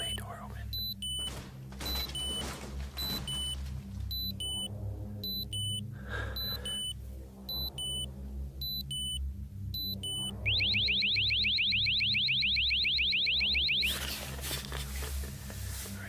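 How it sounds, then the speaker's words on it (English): A van's bay door alarm triggered by motion underneath the vehicle sounds at night on a road trip, first as intermittent paired beeps and then as a loud, rapid warbling tone for several seconds, with quiet whispering voices nearby. "the bay door alarm underneath the van is triggered by motion"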